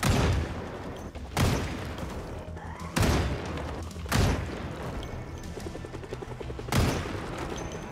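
A hunting rifle fires at zombies in Project Zomboid, five loud, sharp shots spaced a second or more apart, each followed by a short decaying echo over a low ambient background.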